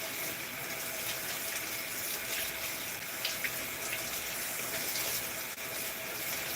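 Tap water pours steadily into a sink while fruit is rinsed, a constant, even rush of moderate loudness with no voices over it.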